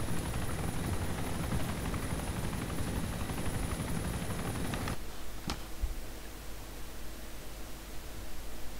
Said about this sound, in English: You could have just said there's someone in our little heli.